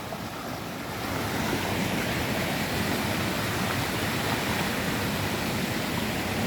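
Water pouring down a waterfall near Chiang Mai, Thailand: a dense, steady rushing roar that swells after the first second and holds loud and constant, with no voices.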